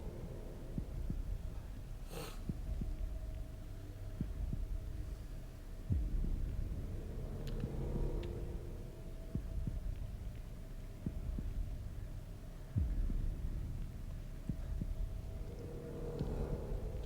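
Faint, slow heartbeat thumping steadily under a low hum in The Evil Within 2, soft double beats repeating every few seconds with no voices.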